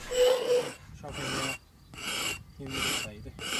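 A tool scrapes across the surface of leather being brain tanned, making rhythmic rasping strokes about once per second in close, loud repeated bursts with brief gaps between them.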